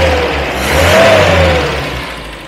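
A 1970s-style Morris 1300 with a small A-Series engine, a barn find being brought back to life, revs up and settles again, a steady mid-pitched drone that swells and fades over a couple of seconds close by.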